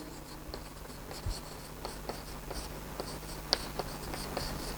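Pen or chalk strokes scratch and tap in short, irregular bursts as a maths teacher writes out an integration step, faint and close, with a low steady hum underneath and no talking.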